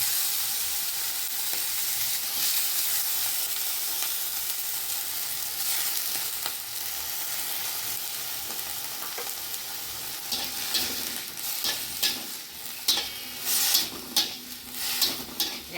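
Chopped potatoes fry with onion and garlic in a pan without added oil or spices. A loud, continuous sizzle runs throughout, and a spatula stirring and scraping grows busier in the final seconds.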